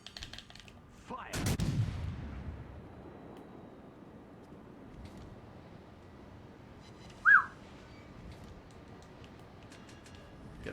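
World of Warships Legends warship guns fire in one heavy, loud boom early on, followed by a long fading rumble and a short high whistle later, with no talk in between.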